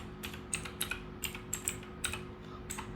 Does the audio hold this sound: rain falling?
no